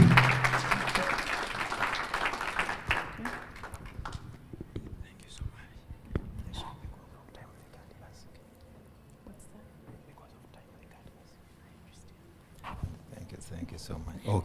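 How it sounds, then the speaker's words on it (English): A conference audience at a church community education event breaks into applause, a burst of clapping that starts strong and fades out over several seconds, with murmuring voices afterward and a brief clap-like rise near the end. "another hand clap for Dr. Bajibio."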